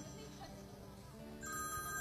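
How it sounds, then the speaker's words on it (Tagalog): A telephone rings with a bright, repeating electronic tone that rises in the final second, heard over a busy room tone of people talking. "Ayan, may nag-ring na naman."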